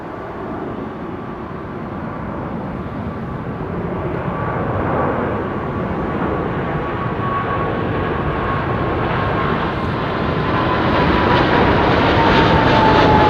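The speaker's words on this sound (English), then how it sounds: "Example of the old Doppler effect up here." A jet airliner passes overhead at Heathrow, a loud broad roar that swells and stays strong, with a whining engine tone sliding slowly downward in pitch as it goes by.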